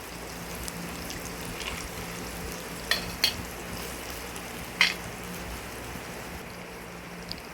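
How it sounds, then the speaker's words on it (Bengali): Carrot, potato and capsicum frying in a pan with a soft continuous sizzle, broken by a few sharp spatula clicks and scrapes against the pan, close but fairly quiet. "এর মধ্যে গাজর, আলু, ক্যাপসিকাম দিয়েছি, একটু নাড়াচাড়া করি"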